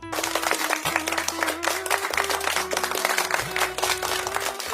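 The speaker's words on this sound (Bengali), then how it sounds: "করতালি হয়ে যাক একবার" Audience applause at a Bengali poetry recitation event, steady, dense clapping from a crowd continuing throughout, with a sustained musical tone underneath.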